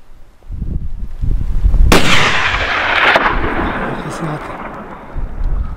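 One loud rifle shot fired while hunting chamois in mountain terrain, a sharp crack followed by a long rolling echo that fades over several seconds, with voices murmuring before the shot.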